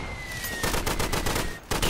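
Rifle fire in the Day of Infamy World War I battlefield, a brief burst of sharp gunshots at mid distance over a steady background hiss, with a thin high tone running underneath.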